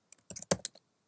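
Quick bursts of keystrokes on a Mac keyboard, a handful of close, crisp clicks clustered in about a second, as a playlist name is typed.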